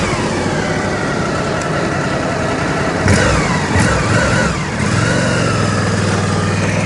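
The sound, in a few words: motorcycle engine on a skidbike training device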